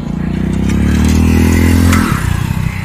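A motorbike in a bike race roars loud and close, holding a steady engine drone for about two seconds before dropping away abruptly.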